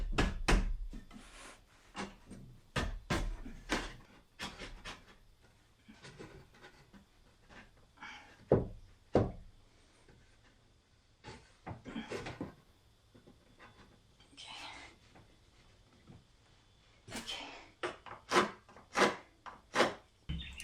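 A wooden piece is recut on a homestead in Australia: close, fairly quiet rasping strokes and knocks of wood being cut, coming in irregular bursts with brief pauses between them.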